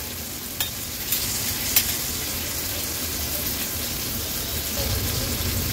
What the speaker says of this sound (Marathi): आता मागची बाजू पण आणखीन 2 मिनिटांसाठी अशीच फ्राय करून घेऊया।